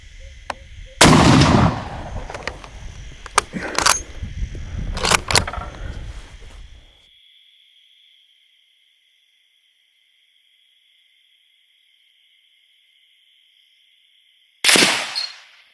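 A Mosin Nagant M44 carbine in 7.62x54R firing outdoors in daytime, several loud sharp shots with bolt clatter between them over about six seconds, then a long quiet stretch and one more heavy blast at the end.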